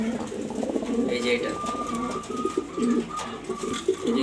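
Young domestic pigeons coo softly in a low, repeated rhythm close by, while someone talks over them throughout.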